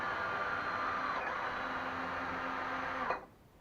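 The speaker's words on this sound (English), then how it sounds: "If I go into fast forward mode, the motors will go down and the back motor will cut out." Electric motors on a MiniHawk VTOL model aircraft whine steadily with a sustained tonal drone, then cut out abruptly near the end, leaving near silence.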